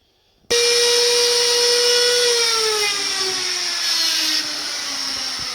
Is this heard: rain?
no